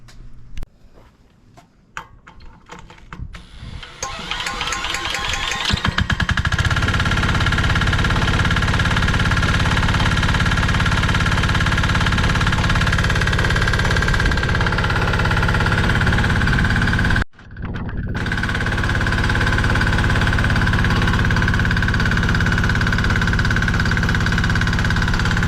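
A diesel engine generator from Amazon cranks with irregular knocks and clatter, then catches and settles into a loud, steady running drone with a persistent whine, briefly dipping once before resuming.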